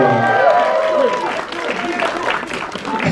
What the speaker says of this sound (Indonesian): Tepuk tangan untuk Dodi Pulyanto.